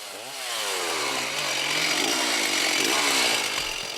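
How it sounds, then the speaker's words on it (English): A chainsaw revs up and drones steadily close by, its whining engine rising and falling as it cuts through wood while a crew clears a road. "Using chainsaws and machetes, the ground crew works as quickly as they can to clear a road"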